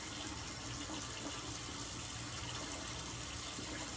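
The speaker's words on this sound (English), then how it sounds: "Time to rinse." Tap water running steadily into a sink while someone rinses face cleanser off, a continuous soft gush with no talking.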